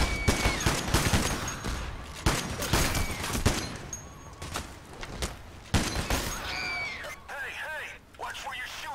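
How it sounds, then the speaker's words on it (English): Rapid bursts of gunfire in Payday: The Heist, heist shootout with sharp repeated shots and volleys close by, scattered across the stretch, while voices talk over the fighting and metallic ringing chirps near the end. "watch where you're shooting"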